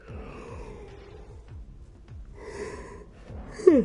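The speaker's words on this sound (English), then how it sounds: "that's why I'm yawning" A man yawns during a game stream, with a long drawn breath that opens into a low, groaning exhale and ends in a brief vocal squeak, heard close and alone.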